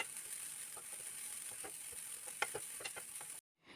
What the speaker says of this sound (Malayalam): ഇനി തേങ്ങ നല്ല ഗോൾഡൻ ബ്രൗൺ ആയി കിട്ടുന്നിടം വരെ വറുത്തെടുക്കണം.